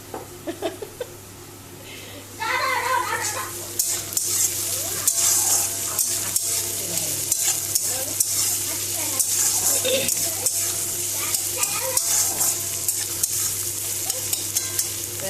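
Steady sizzling of vegetables frying in a pan with occasional stirring scrapes, continuous and close, with some faint voices in the background.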